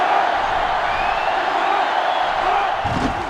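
Loud, steady roar of a huge stadium crowd at a college football game in NCAA Football 2005, USC at Tennessee, sustained throughout with a swell near the end, under no clear talk.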